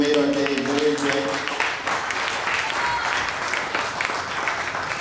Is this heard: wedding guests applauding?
yes